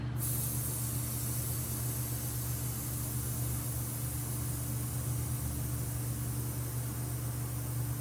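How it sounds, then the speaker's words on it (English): Vehicle air suspension bags releasing pressure, a steady, loud, continuous hiss of escaping air lasting throughout, with a low constant hum underneath and no talking. "relieve some pressure out of the bags here"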